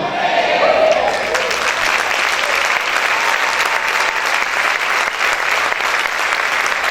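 A large church congregation applauds loudly and steadily, a dense continuous wash of clapping with no pauses.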